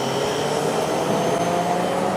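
An Italian ice machine fitted with a larger-capacity fan motor runs with a steady, loud whirring drone, unchanging and constant throughout, with no voices.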